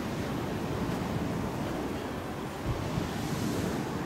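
Sea waves wash onto the Black Sea shore at Kobuleti, Georgia, before dawn, heard as a steady, soft broadband roar mixed with wind, fairly quiet and without voices.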